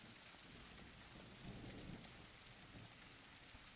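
Heavy rain pours steadily in the zombie survival video game Surroundead, forming a dense, even wash, with a low thunder rumble swelling in the middle; no one talks.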